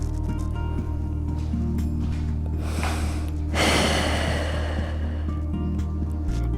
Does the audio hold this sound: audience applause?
no